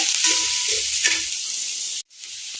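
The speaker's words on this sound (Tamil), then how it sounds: "கேரட் நல்லா வதங்கிடுச்சுங்க" Grated carrot sautéing in a pan, a steady sizzle with a few stirring scrapes, brief and close, ending in a sudden cut.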